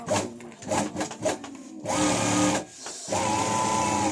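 A sewing machine stitches a handbag: rapid rhythmic pulses at first, then two steady whirring runs of the motor with a short pause between them, close and fairly loud, with no talking.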